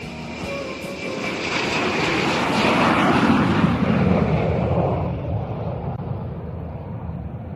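A fixed-wing military jet takes off from a ski-jump ramp at a test airfield, its engine roar swelling to a loud broadband rush that peaks midway and then gradually recedes into the distance.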